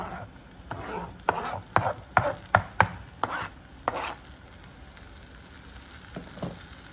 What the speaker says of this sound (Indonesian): masukkan secara perlahan sosis dan tomatnya sampai semuanya masuk ke